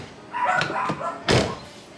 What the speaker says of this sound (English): Even when you shut the door